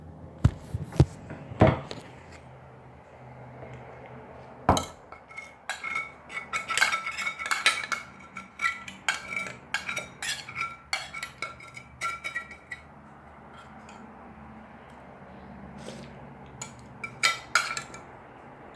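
A metal utensil scrapes and clinks against the bottom of a pan with burnt residue stuck to it, in quick irregular bursts of scratching and knocking, close and fairly clear against a quiet background.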